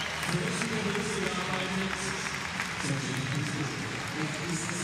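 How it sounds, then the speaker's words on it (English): A crowd at an indoor bouldering finals cheers and claps for a climber, a sustained wash of applause and shouts with a commentator speaking over it. "Sergei Topishko asks the crowd for some support, and they gladly give it to him"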